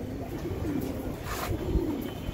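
A roller pigeon from an old-blood, free-flying line coos softly and fairly close, low and murmuring for a couple of seconds, with no voices.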